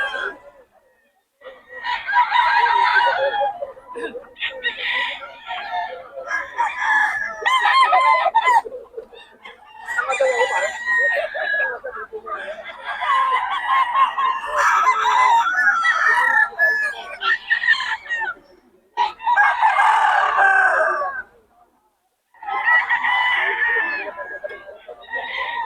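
Several gamefowl roosters crow in repeated bursts while hens cluck between them, a busy, fairly close chorus with short pauses and voices talking in the background.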